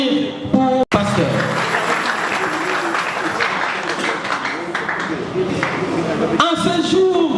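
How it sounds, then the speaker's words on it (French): A church congregation applauds a newly installed pastor at a parish celebration, clapping and cheering mixed with loud voices and bursts of music-like tones near the start and end. "Est-ce qu'on peut applaudir pour le pasteur?"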